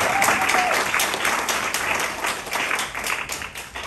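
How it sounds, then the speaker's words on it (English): An audience at a Chinatown downtown revitalization announcement applauds the LPC leaders. The clapping is steady and fairly loud, with distinct individual claps standing out, and fades slightly at the end with no speech. "Can you please applaud again for all the LPC leaders?"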